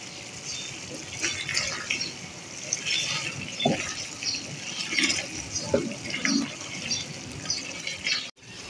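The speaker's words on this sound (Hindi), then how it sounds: "तो यहाँ मैं इसमें थोड़ा सा पानी डालती हूँ।" Water pours into a hot pan of frying kaleji (liver), a loud, steady sizzling hiss and bubbling that continues for several seconds, ending with a brief clatter.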